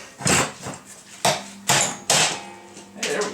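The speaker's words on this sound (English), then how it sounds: "I might have to finish hammering them out." Heavy metal hammer blows strike at worn truck kingpins, six or so sharp ringing impacts at uneven intervals, close and loud with no talking.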